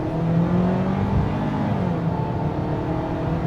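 A 2024 Ford Maverick XLT FX4 with the 2.0-liter turbo engine accelerates hard, its engine rising in a loud, close, steady roar with a shifting pitch.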